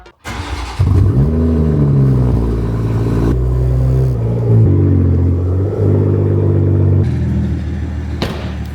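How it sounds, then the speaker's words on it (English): A Toyota Supra MK5 engine cold starts after weeks of sitting, tucked into a cramped garage corner, firing with a quick crank into a loud, steady, elevated idle that drones and shifts slightly in pitch, close to the microphone with no talking. "hopefully it starts, but we're gonna get this cold start"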